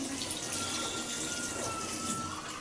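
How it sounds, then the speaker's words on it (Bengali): Water pours steadily into a pot of chicken and new potato curry, a continuous close rushing splash lasting the whole short stretch, without any talk. "এরপর আমি একটু হালকা জলের পানি দিয়ে দিব।"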